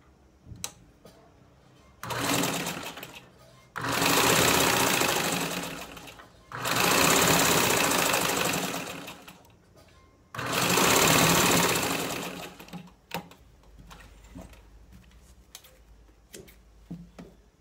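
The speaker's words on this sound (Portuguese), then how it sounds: "E vou passar uma costurinha reta." A sewing machine runs a straight seam through fabric binding in four loud, close bursts of rapid whirring stitches, each a few seconds long, with quiet gaps of handling between them.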